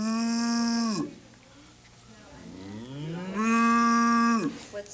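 A voice imitates a cow with two long, drawn-out moos, close and clear, the second rising and swelling louder before tapering off.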